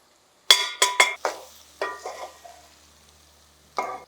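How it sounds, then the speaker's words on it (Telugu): Metal spoon clanks and scrapes in a sizzling pan of brinjal curry as chicken goes in, a quick cluster of sharp clinks followed by softer stirring, then a final clank after a short pause, with a faint sizzle underneath. "చికెన్ వేసేస్తున్నాను అందులో."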